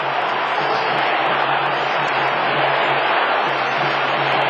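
An Australian football crowd at a West Coast versus Collingwood match roars after a goal, a dense, loud and unbroken wash of cheering that holds steady throughout.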